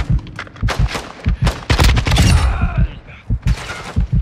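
Rapid bursts of gunfire from an enemy sniper and other weapons in the game DMZ crack out loud and close, with a dense volley in the middle and scattered shots before and after.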